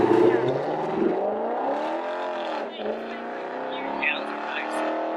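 A Lexus IS F pulls away from the Hot Import Nights car show in San Jose, its engine note rising and shifting as it drives off, with bystanders chatting over the steady engine noise.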